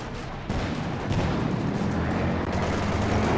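Dense, continuous MG34 machine gun fire from a veteran gun team in a Company of Heroes 2 match, a loud sustained rattle layered with booming battle noise that surges in just after the start and keeps going without a break.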